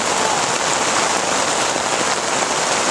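Steady, dense rain falls throughout at a youth football match, a loud, even hiss of drops on surfaces with no talk over it.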